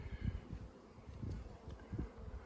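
A soft, steady buzz of many bees close by in an opened top bar hive in spring, with faint rustling and a few louder swells.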